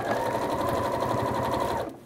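A sewing machine runs steadily for about two seconds, stitching closed the side seams of fabric for an oven-dish holder, a close continuous whir with no talking, then stops.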